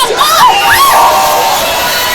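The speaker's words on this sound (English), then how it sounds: "A pretty vocal crowd here" Spectators at the 2023 A-Grade netball grand final between Moe and Morwell shout and cheer loudly, with high excited whoops rising over a dense crowd roar.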